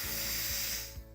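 Steam rushes in a loud, steady hiss from an Instant Pot during a quick pressure release, with a faint mechanical rattle underneath that eases slightly near the end.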